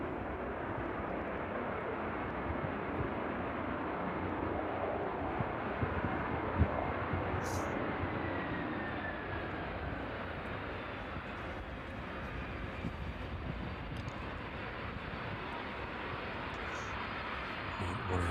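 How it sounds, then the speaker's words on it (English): A Boeing 747 arriving at East Midlands Airport in the evening roars with reverse thrust, a broad, loud, sustained rumble that holds steady for the whole stretch with no talking over it. "The reverse thrusters in action now."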